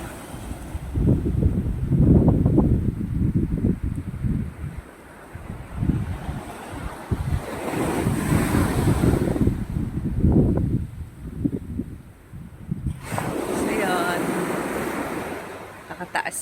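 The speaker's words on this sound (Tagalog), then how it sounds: "So, medyo malalaki po yung alon." Big ocean waves rolling onto a beach, heard as repeated surging washes in uneven swells with gusty wind buffeting the microphone throughout.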